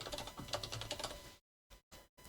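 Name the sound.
typing on a computer keyboard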